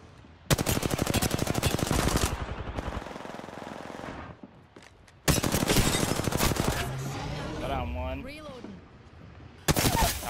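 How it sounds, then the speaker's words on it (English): Rapid automatic gunfire fired through windows in Apex Legends, loud sustained bursts in three separate volleys with brief pauses between, plus faint in-game effects. "I'm gonna shoot through windows down below"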